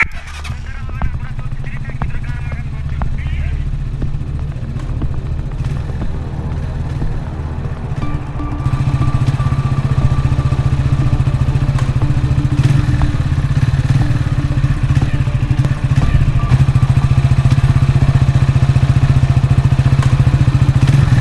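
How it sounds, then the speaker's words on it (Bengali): A motorbike engine starts up and idles steadily on its own, a low continuous rumble that grows louder partway through and keeps running with some rattling clatter. "বাইকটা একা একা অন হলো কি করে?"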